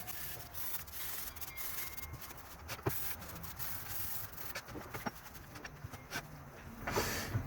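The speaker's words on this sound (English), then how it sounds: "I find it's also helpful to scrub the bottom of the banjo." Faint scrubbing and rubbing on the underside of a lathe banjo, steady abrasive strokes with a few sharp knocks, close and quiet with no voices.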